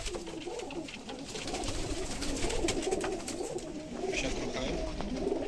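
Pigeons coo softly and continuously inside a pigeon loft, a low warbling murmur with faint rustling and clatter in the background.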